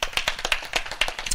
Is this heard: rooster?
no